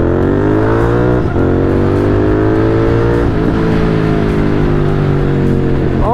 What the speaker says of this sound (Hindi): भगाते हैं थोड़ी बाइक